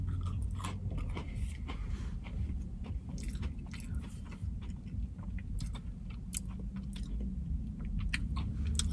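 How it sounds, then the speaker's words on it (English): Close, intimate chewing of a maple donut: soft rhythmic mouth sounds and small wet crunches repeat steadily over a low background hum, with no talking. "first I'll just try this maple donut"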